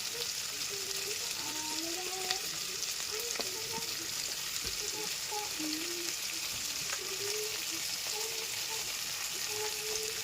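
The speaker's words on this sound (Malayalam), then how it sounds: "എല്ലാ സവാളയും അതിലേക്ക് ഇട്ടിട്ടുണ്ട്. ഇനി ഒന്ന് ഇളക്കി കൊടുക്കാം." Sliced onions frying in a pan for Kerala-style chicken curry, a constant close sizzle with faint scraping from stirring, no voices.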